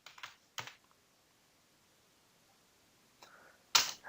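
Short bursts of computer keyboard typing while CSS code is written, a few quick clusters of clicks separated by quiet gaps, close and fairly soft.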